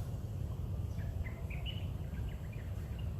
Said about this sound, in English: we're lucky we can hear the birds, the ocean